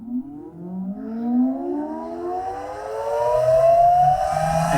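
Deluxe canopy fan on a John Deere Z735M zero-turn mower spinning up, a steady rising whine that climbs in pitch and grows louder over several seconds, heard close with no talk.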